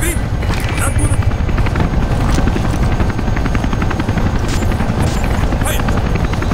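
An enemy helicopter in the video game Ghost Recon Advanced Warfighter 2 makes a loud, close, continuous rotor thump and engine whine that holds steady for the whole stretch, with faint high chirps above.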